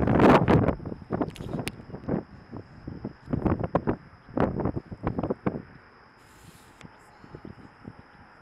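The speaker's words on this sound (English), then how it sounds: "I'm going to cover the mic, but it's windy" Bursts of wind at Waimea Bay, Hawaii, buffet the microphone in gusty, low rumbling thumps, strongest at first and easing off toward the end.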